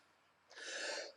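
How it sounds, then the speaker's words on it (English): A single short cough, close and fairly soft, bursting out after a quiet pause and lasting about half a second. "And that made me cough."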